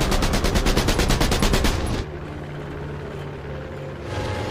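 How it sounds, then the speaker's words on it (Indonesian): A rapid burst of automatic gunfire rattles loudly for about two seconds, then cuts off, leaving a low droning engine hum that continues to the end. "dia melepaskan tembakan,"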